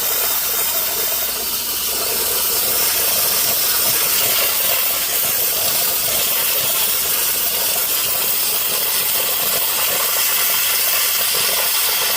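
A Harbor Freight steam cleaner sprays a steady, loud, continuous hiss of steam that runs without a break and carries no talk.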